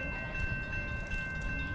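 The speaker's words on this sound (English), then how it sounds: "now arriving southbound Lincoln Service 303, servicing Carlinville Alton St." An Amtrak Lincoln Service passenger train pulls into the station at Springfield, a continuous heavy rumble with a steady tonal ring over it, loud and near, with no voices.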